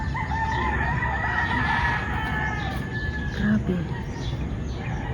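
Roosters crow repeatedly at a distance on a foggy morning over steady outdoor ambience, with occasional clucking and faint background voices.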